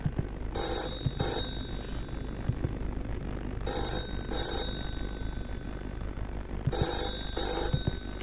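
An old-style telephone rings in a house in a video game, with three long bursts of bell ringing over a steady low background hum and occasional soft knocks.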